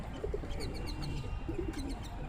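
Pigeons coo softly in repeated low, throaty phrases, with a few small chirps and light outdoor background noise.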